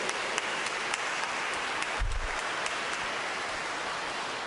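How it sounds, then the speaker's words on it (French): Applause for a couple's wedding anniversary at a parish celebration: faint, steady patter of many hands clapping, heard from a distance, with a brief low thump midway and no voices over it. "on pourrait applaudir tout ce monde-là pour leur anniversaire"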